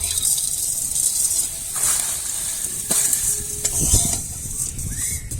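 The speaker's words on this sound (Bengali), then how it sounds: "সেমাইটা বাড়িতে বানানো তাই আমি হালকা ভেজে নিব" Homemade vermicelli noodles sizzle and hiss steadily as they lightly fry in hot oil, with occasional scraping stirs against the pan.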